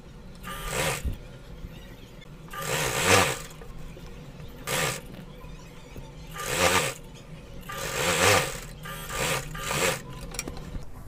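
A sewing machine stitches the crotch center seam of a gharara in short, separate runs, each a few seconds of rising and falling whir and rasp, with quiet gaps between about six bursts.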